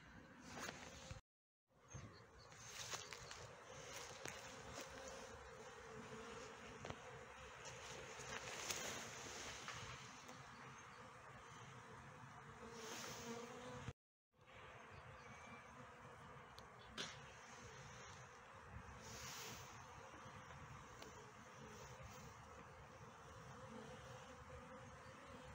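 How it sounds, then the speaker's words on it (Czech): Honeybees make cleansing flights out of the hive on a mild winter day, a faint steady buzzing hum drifting outdoors with light wind noise and a couple of brief dropouts. "Prolety včel 1. ledna roku 2023."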